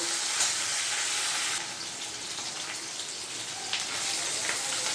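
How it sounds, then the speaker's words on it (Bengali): Crackling sizzle of fish frying in hot oil, a steady hiss with scattered pops, dipping a little quieter partway through. "আমি আবার মাছগুলোকে উল্টে আরেক পাশ ভেজে নেব"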